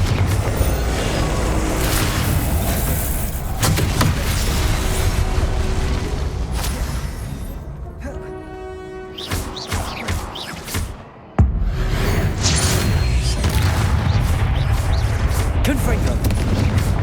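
In a Hogwarts video game, blasting-curse explosions go off as a string of booming, crackling blasts under steady rumble. A voice shouts spell names, and the noise briefly thins before a sharp blast brings it back.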